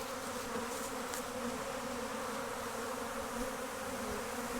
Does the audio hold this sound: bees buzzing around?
yes